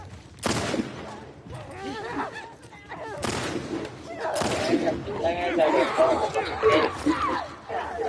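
Gunfire and fight sounds from the video game The Last of Us Part II. Sharp bursts crack out amid busy combat noise and excited talk, with shots and shouting overlapping through the scene.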